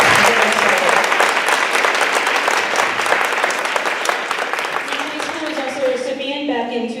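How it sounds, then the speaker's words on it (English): Audience applause fills a school board meeting room, loud dense clapping sustained throughout before thinning toward the end as voices emerge. "So we have to really clap for that."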